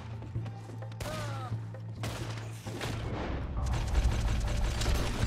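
Gunfire rings out in Red Dead Redemption 2 during a train robbery, a string of loud sharp shots with ringing tails, growing into denser rapid fire over a steady background hum.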